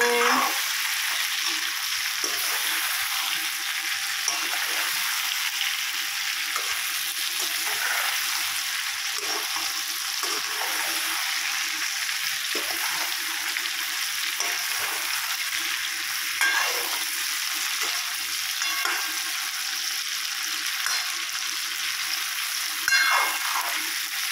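Potatoes fry in a pan while someone stirs them, with a steady hiss of frying under regular scraping strokes of a spoon against the pan. The sound goes on for the whole stretch without speech.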